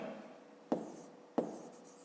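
Pen or pencil strokes tap and scratch onto paper while numbers are written down in a fifth-grade math division exercise, two short distinct marks close to the mic in an otherwise quiet room.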